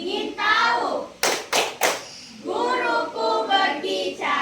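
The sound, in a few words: classroom rhythmic concentration clapping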